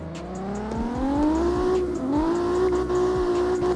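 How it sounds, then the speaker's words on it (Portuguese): A Toyota Mark II engine revving in the CarX Street racing game, a loud steady rising whine that climbs through the gears with brief dips at shifts, close and continuous with no talk. "Vamos testar aqui o carro, ó."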